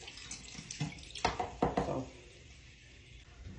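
Water runs from a tap while hair is being wetted, a soft, fairly quiet splashing flow with a few louder bursts and knocks in the middle.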